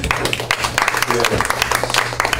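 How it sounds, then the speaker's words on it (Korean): Audience applause at a Korean missionary strategy forum, a dense burst of many hands clapping close and fairly loud, filling the whole moment with no speech over it. "박수 한번."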